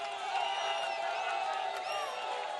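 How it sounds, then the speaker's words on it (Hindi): An audience at a televised Rajasthan election debate in Udaipur gives a brief burst of cheering, whoops and applause. "पंकज शर्मा जी, राष्ट्रीय प्रवक्ता राजस्थान प्रदेश कांग्रेस के तालियों के साथ स्वागत कीजिए"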